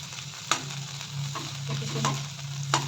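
Potatoes sizzle in a pan with onion and chillies for fried rice, a constant hiss of frying broken by a few sharp clinks of a spatula stirring against the pan.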